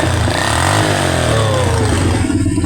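An old stock motorcycle with a holed exhaust, its engine running loud and close with a rough, throbbing idle that swells into a rev and settles back.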